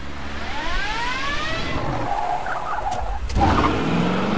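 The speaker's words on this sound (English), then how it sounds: "That car just sounds badass." A racing car engine in The Crew video game, its revving engine rising in pitch with tire skid noise, sounding steady and fairly loud with no talk over it.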